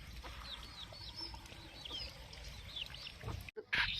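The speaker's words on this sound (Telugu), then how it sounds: "కోళ్ళు." Chickens cluck and chirp faintly in a farmyard, with repeated short calls scattered over a low background murmur and a brief rustle near the end.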